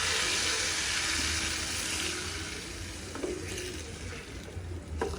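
A tempering of hot oil with chillies for Gujarati kadhi gives a fizzing, watery sizzle that starts strong and slowly dies down, broken by a few light clinks near the end.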